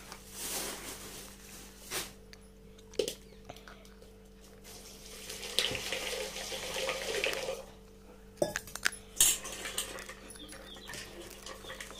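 Tap water runs into a sink in a village kitchen while a bowl is washed, a soft continuous splash broken by clinks and knocks, with faint birds in the background.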